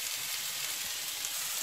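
Onions frying in a pan, a dense, steady sizzle that hisses evenly throughout at close range, with no voices.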